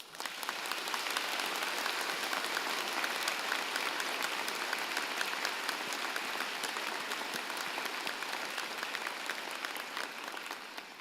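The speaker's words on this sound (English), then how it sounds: "join me and the platform party in thanking them with a vigorous round of applause" A large audience applauds steadily at a university spring convocation, dense clapping sustained at an even level for about ten seconds before beginning to fade slightly at the end.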